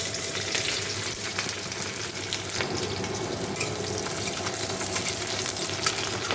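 Panch phoron, dried chilli and onion frying in hot oil for dal, giving a steady, dense sizzle that stays loud and even throughout with no voices.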